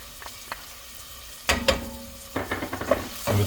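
Minced garlic hits a pan already holding carrots and onions, a soft sizzle with a few stirring clinks and scrapes, faint at first, then a little livelier as the garlic starts to fry.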